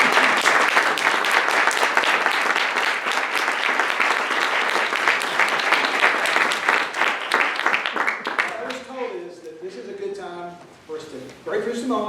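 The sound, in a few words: audience applause at end of lecture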